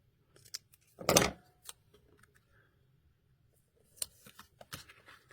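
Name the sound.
scissors trimming a paper card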